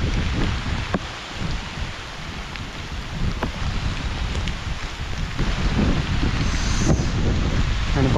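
A rain shower falls across a farm field during ploughing, a steady hiss of rain with gusts of wind buffeting the microphone and a low rumble, building slightly louder toward the end with no voices.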